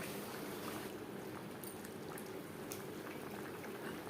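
Chicken and potato curry simmering in a pot after water is added, a steady close bubbling and gurgling that holds even throughout with faint crackles and no voices.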